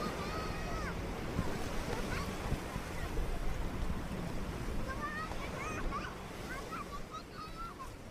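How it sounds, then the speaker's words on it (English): Sailboats moored at Port Royal de la Darse in Villefranche-sur-Mer, with waves lapping, wind gusting and buoys and ropes creaking in short, squeaky bursts, mostly toward the end, over a steady wash of water. "You can hear some of the creaking buoys and ropes attached to small sailing ships."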